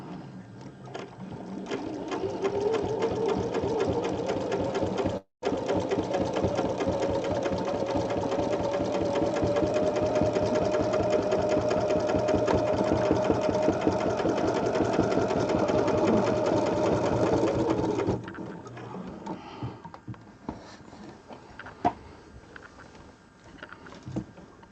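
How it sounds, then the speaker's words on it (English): A sewing machine stitches a straight line on an angel wings quilting design, a close, fast, steady mechanical whirring that runs unbroken for about eighteen seconds apart from one tiny gap, then stops. "I'm not going to rotate this one fully because I can simply just stitch straight down here."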